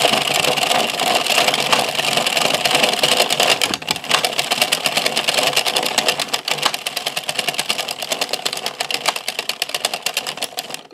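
A hand-cranked knitting machine rattles with a rapid, steady mechanical clatter, clicking and whirring continuously at close range with no talk.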